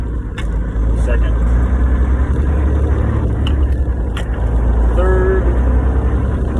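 A semi truck's engine roars loud and steady from inside the cab as the driver works up through the gears. A heavy low rumble holds throughout, with someone talking over it.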